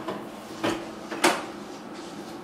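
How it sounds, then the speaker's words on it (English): Door of a Skybar wine preservation chamber being closed: a few soft knocks and a final clunk, close and moderately quiet, with a faint steady hum underneath. "Close the door"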